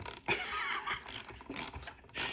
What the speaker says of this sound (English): You have to get your hands, you have to tighten your nuts.